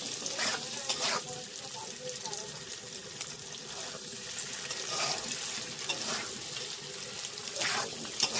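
Paneer and potato pieces fry in a pan for paneer curry, a steady close crackling sizzle with occasional brief bursts of spattering and stirring, continuous throughout with no talk.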